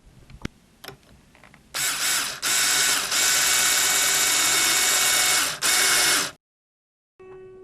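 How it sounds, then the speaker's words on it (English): Tuner winding guitar string on a Floyd Rose style guitar, a loud continuous whirring ratchet buzz in long bursts close by, cutting off into silence near the end. "Then you grab your tuner and start winding."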